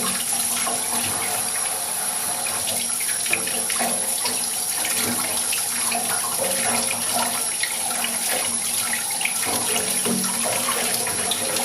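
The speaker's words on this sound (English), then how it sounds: "just use some lukewarm water and rinse off the watch as best as possible." Lukewarm water runs from a tap to rinse a Rolex watch, a steady, close splashing hiss with small shifts as the watch moves under the stream, continuing throughout.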